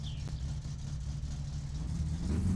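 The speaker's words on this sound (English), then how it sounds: "The engine just sounds much better" A car engine idles steadily in My Summer Car after carburetor tuning. The low, even rumble sits close and quiet, with a faint rise near the end and no talk.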